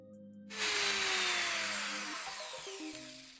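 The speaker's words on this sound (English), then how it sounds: "I do need to enlarge the hole in order to fit it in" A 5 mm drill bit enlarging the hole in a wooden paintbrush handle so a wire will fit, a steady close whirring drill drone that starts after a brief quiet moment and runs to the end, with the pitch sagging slightly as it bites.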